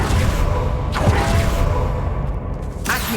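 A fire-blast spell is cast in Hogwarts Legacy as a loud whooshing burst within a dense, rumbling game soundscape, with a second sweep near the end.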